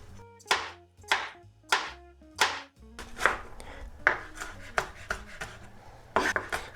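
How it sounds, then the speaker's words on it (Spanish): A knife chops an onion into small cubes on a cutting board, with sharp close thuds at a steady rhythm of about two per second, then a quicker and more uneven run of cuts. "vamos a picar una cebolla pequeña o media cebolla grande. La vamos a hacer en cubitos pequeños."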